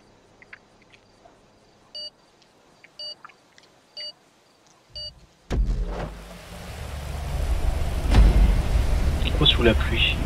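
Steady rain falls in the open world of the video game GTA V, a dense, loud hiss that starts abruptly after several short electronic beeps and keeps building with a low rumble underneath.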